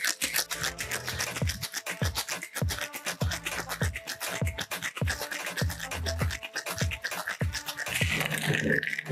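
Rum cocktail shaken hard with ice in a cocktail shaker, a steady fast rattling rhythm of ice striking metal, close and loud, continuing for several seconds with no talking.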